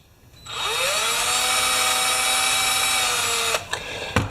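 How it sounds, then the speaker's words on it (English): A small power drill whirs up to a steady high whine for about three seconds, drilling a hole in a metal detector pointer's printed circuit board, then stops, followed by a couple of light clicks. "I'm just drilling a hole in the printed circuit board where there's no electronics"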